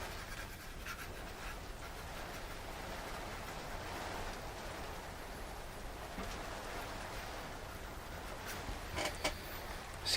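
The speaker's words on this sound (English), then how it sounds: "You might hear the rain bashing itself against the roof of my studio" Steady rain pattering on a studio roof overhead, a constant hiss with occasional sharper drips and taps, fairly faint and continuous.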